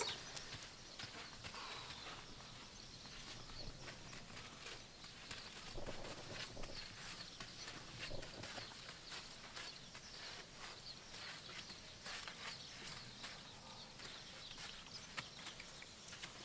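A horse trotting in hand during classical groundwork gives faint, steady hoof clip-clops that continue throughout at a distance, with no talking over them.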